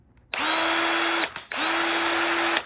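A Ryobi ONE+ cordless drill spins up twice on speed setting 2, each run a steady, loud whine lasting about a second before stopping, with a short pause between.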